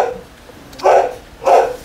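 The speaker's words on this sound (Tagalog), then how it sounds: "Excuse me lang sa ingay ng aso ha, para sa mga masiselan sa kahol ng aso." A dog barks outdoors twice in quick succession, loud and close enough to cut through the quiet between barks, with no talking.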